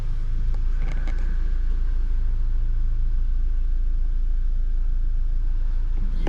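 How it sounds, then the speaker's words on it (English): A Volkswagen Golf Mk7 R five-door idles with a steady low engine rumble heard from inside the car after starting, with a few light clicks and creaks early on and no talking. "the car starts and idles as it should"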